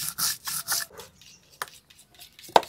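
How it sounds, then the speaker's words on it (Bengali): Poppy seeds, white and black mustard seeds and green chili are ground into a paste by hand, giving several rough rubbing, rasping strokes followed by quieter scrapes and a sharp knock near the end. "পোস্ত, সাদা সর্ষে, কালো সর্ষে, কাঁচা লঙ্কা একসাথে বেটে দেবো?"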